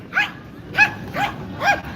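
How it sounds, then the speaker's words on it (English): Small dog near Magellan's Cross in Cebu giving four sharp yipping barks, evenly spaced and close, over quiet outdoor ambience. "And look, we even have some dog companions."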